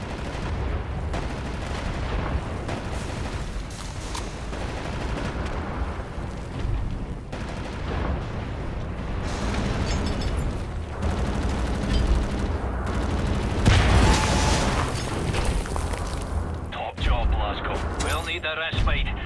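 Sustained machine-gun and rifle fire from an entrenched nest in a World War II shooter game, dense overlapping bursts and explosions running the whole time with game music mixed in, loud and continuous.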